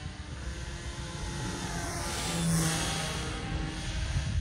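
An FPV flying wing's motor drones steadily in flight, a broad buzzing roar that swells slightly midway as the throttle rises, with no talking.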